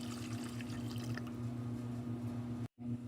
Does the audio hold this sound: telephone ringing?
no